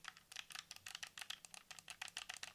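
Mechanical switch buttons on a GameSir G7 HE Xbox controller clicked in a quick, steady run of about twenty crisp, close taps, with no talking.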